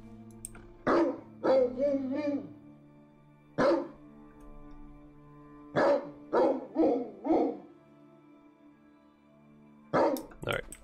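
A dog barks in the dark fantasy video game Black Legend, loud deep barks and woofs in short bursts of two to four separated by pauses, heard clearly without speech.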